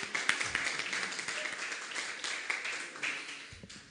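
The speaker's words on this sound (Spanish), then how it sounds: "me gustaría pedirles que nos demos un aplauso" A crowd applauds steadily, a dense wash of clapping that holds at an even level from start to finish.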